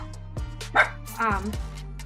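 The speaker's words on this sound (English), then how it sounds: "Sorry, my dog." A pet dog gives a couple of short barks and yips, close to the microphone and mixed in with a person talking.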